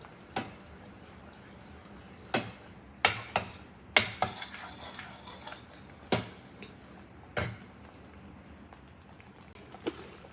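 A spoon stirs egg curry in a pan, giving sharp metallic clinks and scrapes at irregular intervals, close and fairly loud against a quiet kitchen background.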